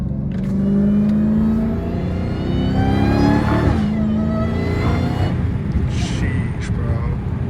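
A Dodge Hellcat Redeye with an 800 hp supercharged engine revs loudly and steadily, rising engine pitch carrying a thin supercharger whine, with brief talk over it.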